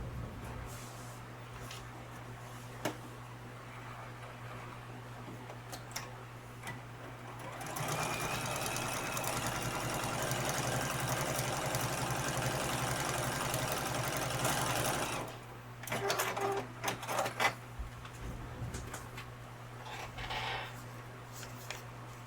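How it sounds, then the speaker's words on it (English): An electric sewing machine stitching a fabric seam, a rapid even whirring run of about seven seconds in the middle, framed by quiet handling of cloth and a low background hum. "And let's go sew that seam."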